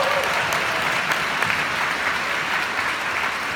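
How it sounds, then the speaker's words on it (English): Steady, dense applause from a large audience at an awards announcement for top 20 winners, sustained and even throughout at moderate distance with no talk. "Give them an applause again, the top 20 there."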